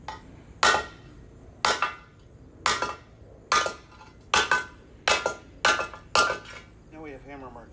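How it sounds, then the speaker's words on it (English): Sharp metallic hammer blows ring out one after another, hammering dents out of metal after a wheel blew off, about eight strikes at a steady pace, with a brief voice near the end. "Oh, you hammered out the dents."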